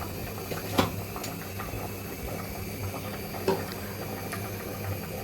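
Broiler chicken curry gravy simmering in a pot on a stove, a low, steady bubbling murmur with a couple of brief, sharper pops, fairly quiet and with no talking.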